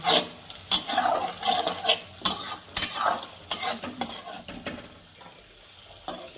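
Spice paste with a little sugar stir-fried in a pan for a potol posto dish: close, loud scraping and knocking of a spoon against the pan over a soft sizzle, in irregular bursts that ease off near the end.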